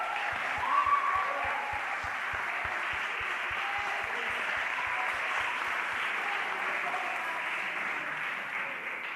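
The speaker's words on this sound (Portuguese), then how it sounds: "Vamos aplaudir o Senhor?" A church congregation applauds during a Tuesday evening service, a soft wash of clapping with a rhythmic low thump for several seconds under a faint sustained tone, moderately distant and fairly quiet.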